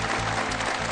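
An audience claps steadily at a farming talk, a dense, even wash of applause filling the whole brief moment.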